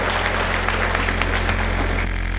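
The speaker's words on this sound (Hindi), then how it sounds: "मैं भाई को जोरदार ताली बजाएं आप लोग और समर्थन करें" An audience at a Hindi poetry gathering applauds a poet, a continuous wash of clapping heard through a steady electrical hum.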